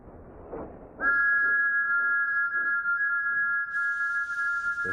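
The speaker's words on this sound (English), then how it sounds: "Thomas's whistle echoes." A steady, piercing steam engine whistle echoing in a quarry starts after a second and holds loudly, with a higher tone joining near the end over faint rumbling background.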